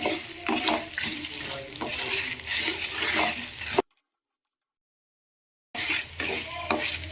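Dried red chillies fry in a pan as they are stirred, giving a steady crackle and scraping that runs for a few seconds, breaks off into silence, then resumes.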